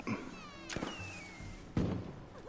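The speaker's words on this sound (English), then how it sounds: "Fireworks" Fireworks going off in Monster Hunter, with two sharp booming bursts spaced about a second apart, each trailing into crackle and whistling streaks, set against a low background murmur.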